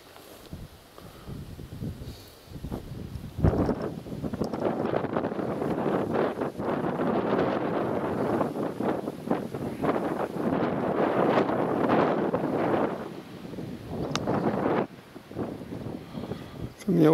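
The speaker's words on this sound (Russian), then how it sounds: "Ветер холодный, но терпимо." Cold wind gusting outdoors across a microphone, a loud, uneven rushing that swells and fades in gusts over most of the stretch, with no talking over it.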